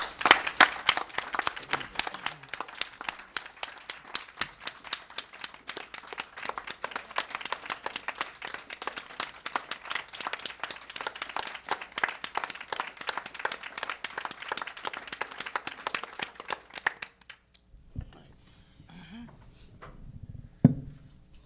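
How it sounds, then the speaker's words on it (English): A sustained round of applause from a meeting audience at an education commission session, dense clapping that continues steadily for about seventeen seconds, then breaks off into a quiet room with faint scattered sounds. "So join me in a round of applause for all of this."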